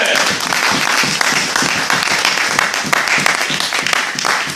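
Congregation in a church applauding together, dense sustained clapping filling the whole stretch at a steady loud level, with no speech over it.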